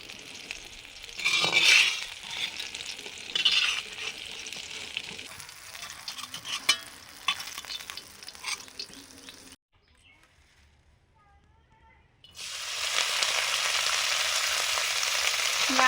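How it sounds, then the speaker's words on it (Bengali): Red amaranth greens with their stems sizzle and hiss as they fry in a pan, loud and close, with stirring scrapes early on, a brief near-silent pause, then a steady, stronger frying hiss returning. "লাল শাকগুলো এবার ভেজে নিচ্ছি সঙ্গে ডাঁটা আছে"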